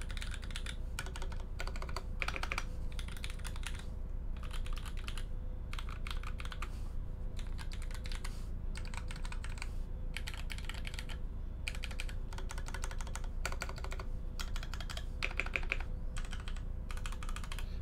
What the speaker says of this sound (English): let's do a bit more sound typing test